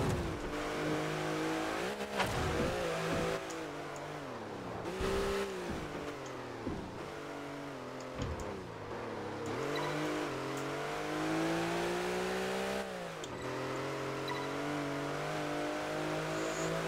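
A car of around 200 horsepower climbs a hill in Test Drive Unlimited 2, its engine revving up and down in repeated surges with brief shifts between, and faint tire squeal now and then.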